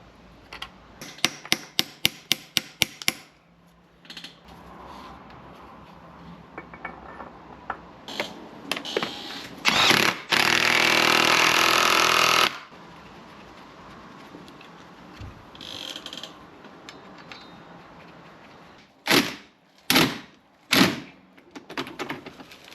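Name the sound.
hammer tapping a seal into place on a BMW e61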